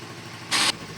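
A Yamaha Mio i 125 scooter engine with a newly replaced cam bearing idles at a low, steady hum, broken midway by one short, loud hissing burst.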